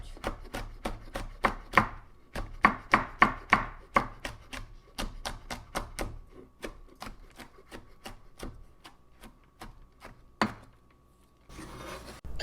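A knife chops cheongyang chili peppers on a cutting board in rapid, crisp strokes, a quick run of sharp taps that slows into sparser cuts, close and clear with no talking.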